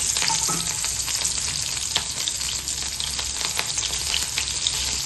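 Green chilies fry in hot oil for Diwali snacks, a loud, dense, continuous crackling sizzle with scattered sharp pops running the whole time, close up and with no talking.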